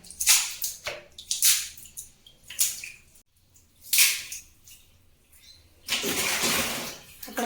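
Water poured out to rinse a bathroom floor after scrubbing off stains, coming in several splashing bursts with short pauses, then a longer steady gush at the end, close by.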